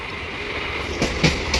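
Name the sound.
train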